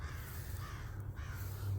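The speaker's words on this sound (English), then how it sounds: "And that's a crow." A crow caws in the wilderness of the survival game I.R.L, a faint, short call set against steady low ambient hum.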